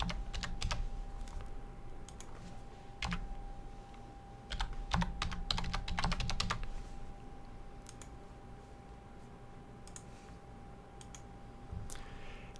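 Keys clatter on a computer keyboard as a username is typed in a WordPress admin screen, coming in quick bursts of clicks with short pauses between, close and clear with no talking.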